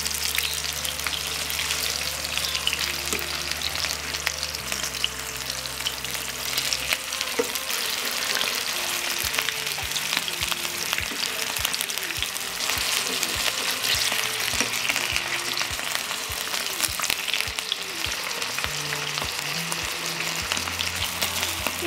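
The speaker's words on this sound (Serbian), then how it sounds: "Pržit ću ih 2 do 3 minuta sa jedne i sa druge strane" Pljeskavica patties fry in a pan with a constant close crackling sizzle of hot fat that runs unbroken throughout, over a faint low steady hum and with no speech.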